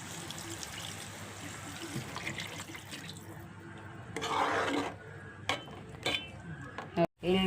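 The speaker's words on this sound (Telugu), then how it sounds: "ఇప్పుడు కావాల్సినంత వాటర్ వేస్తున్నామండి." Water pours and trickles into a pot of tamarind curry for vada pulusu, stirred with a utensil clinking against the pot, continuous splashing for several seconds, then a few sharper clatters and a brief pause near the end.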